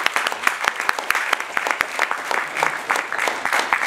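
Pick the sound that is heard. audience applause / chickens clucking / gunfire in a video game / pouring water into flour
audience applause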